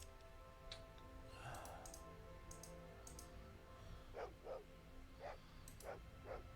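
A dog barks several times in short, spaced yaps over a steady background hum, moderately close but not loud, in the video game Fallout 2.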